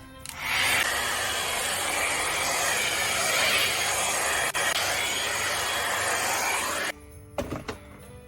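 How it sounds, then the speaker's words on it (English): A Head Kandy Commitment Issues blow dryer runs steadily with a loud, even whoosh of air for about six seconds, then cuts off, leaving a few soft handling bumps. "this blow dryer gives the most smoothest blow dry ever."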